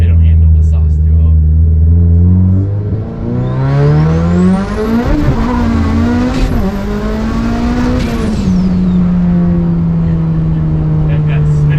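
A 700whp Mitsubishi Evo with a 6-speed pulls hard through a 1-2 shift, its engine roaring up through the revs with a brief break at the shift, then climbing again with tire spin on second; occupants talk over the loud, close engine.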